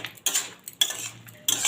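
Poppy seed paste water being stirred in a pan, with spoon or spatula scrapes and clinks against the metal arriving in three separate bursts, nearby and moderately loud, with no one speaking.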